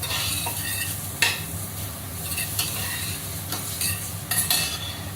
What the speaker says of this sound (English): Get some oil, whichever oil you prefer. In with the onions and garlic. Saute there.